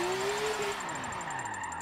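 BMW race car from Forza 7 heard from the cockpit, its engine note climbing then dropping as it shifts, a steady loud drone with a high whine running throughout.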